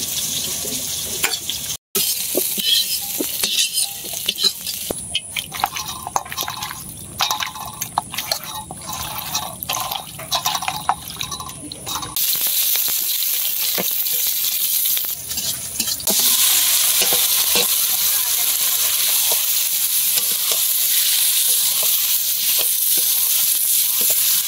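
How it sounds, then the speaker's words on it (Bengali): Chicken sautéing with onion, garlic, ginger paste, salt and chili powder in a pan, a continuous loud sizzle with spoon scrapes and stirring clatter, the frying hiss growing stronger toward the end. "মাংসের কালারটা খুব সুন্দর হয়েছে, কষাইতেছে আর কি।"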